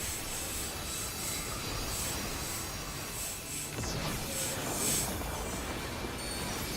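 A train in a video game rolls past with a continuous heavy rumble, and high wheel squeals recur every few moments throughout.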